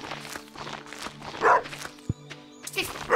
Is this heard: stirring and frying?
no